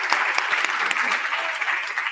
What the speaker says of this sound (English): So I just want to give a round of applause